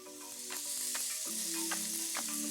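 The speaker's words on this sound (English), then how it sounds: "good sizzle" Continuous bright sizzling of halloumi frying in a hot oiled pan, steady and close, with faint musical tones running underneath.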